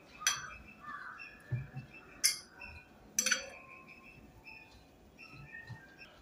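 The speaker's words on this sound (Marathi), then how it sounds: "इथे मी चमच्याने सर्व छान मिक्स करून घेतलेलं आहे" A spoon mixes fresh turmeric pickle with jaggery and lemon juice, giving a few distinct clinks against the container, each followed by soft scraping, while birds chirp faintly in the background and no one speaks.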